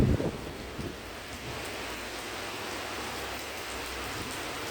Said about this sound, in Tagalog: Nakakaranas ng ulan ng ganito.